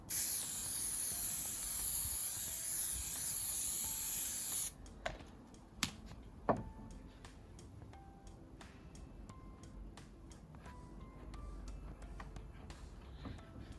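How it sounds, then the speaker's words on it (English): A long, steady aerosol hiss from a can of Rhino heavy-duty spray adhesive on a wooden soapbox car runs for several seconds, then cuts off, followed by a few faint clicks and handling taps in a quiet room. "went for the Rhino heavy duty spray adhesive so we can spray that down and lock that in"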